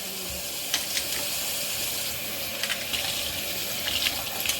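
Running water rinses soap from a makeup brush under a tap, a steady broadband splashing hiss with a few brighter spatters and drips, close and continuous, no talking.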